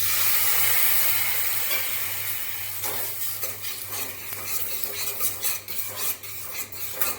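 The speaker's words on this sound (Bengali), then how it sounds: "সামান্য পরিমাণে জল দেব।" Water goes into a spice paste frying in oil for an egg omelette curry, giving a steady hiss and sizzle with scraping stirring strokes that grow busier toward the end, with no one speaking.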